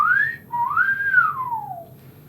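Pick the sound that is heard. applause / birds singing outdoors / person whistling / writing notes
person whistling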